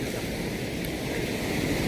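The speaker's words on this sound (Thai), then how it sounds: "น้ำไหลแรงครับ" Strong current of water flowing in a canal, a loud, steady rushing hiss with no pauses, heard up close and alone.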